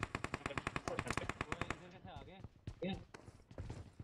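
Rapid machine-gun bursts rattle out in PUBG Mobile, a quick regular string of sharp shots for nearly two seconds, followed by scattered single shots and voices talking in the game.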